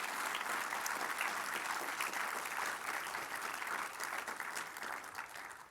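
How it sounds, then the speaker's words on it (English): An audience applauds the supervisors on stage, with continuous, fairly distant clapping that holds steady and tapers slightly toward the end. "can we give them a round of applause for all they do?"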